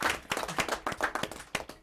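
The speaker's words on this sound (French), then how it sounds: "On l'applaudit quand même, on l'encourage." A small audience clapping, a brief burst of quick uneven handclaps, fairly faint and lasting under two seconds.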